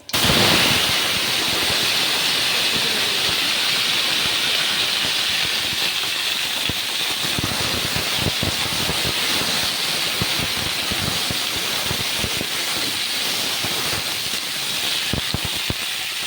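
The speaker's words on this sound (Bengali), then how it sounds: "এবার এখানে দেব এই গোটা গরম মশলা, একটু গোটা জিরে, একটা তেজপাতা, একটা শুকনো লঙ্কা ফোড়নে দিলাম" Whole garam masala, cumin seeds, a bay leaf and a dried red chilli crackle in hot oil, a loud, steady hiss with dense spitting pops that runs throughout, with no talking.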